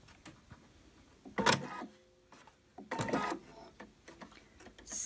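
A sewing machine stitches 3 mm pintucks into baby bloomers fabric in two short, quiet bursts, separated by clicks and handling noises.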